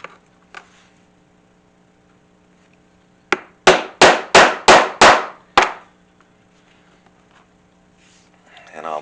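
Hole punch struck with a mallet through a leather strap on a polyboard to make rivet holes, a quick series of six sharp, loud blows after a couple of lighter taps.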